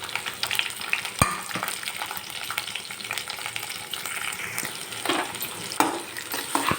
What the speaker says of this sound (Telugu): కొంచెం చెక్క ఇవన్నీ వేసి కొద్దిసేపు ఫ్రై చేసుకోవాలండి